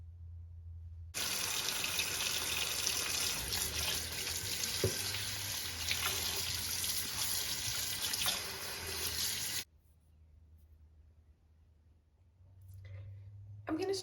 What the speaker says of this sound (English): gonna start by rinsing everything off